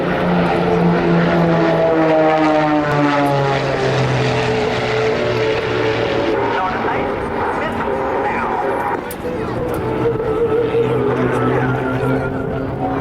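Military aerobatic team propeller aircraft roar overhead at an air show, a loud continuous engine drone with shifting pitch as the planes pass, heard beneath an announcer's voice.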